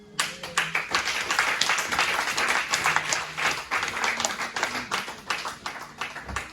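A church congregation applauds during a sermon, steady dense clapping from many hands filling the room at an even level throughout.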